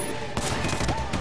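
Rapid gunfire in Sleeping Dogs, a dense burst of shots that runs throughout, loud and close against the game's background noise.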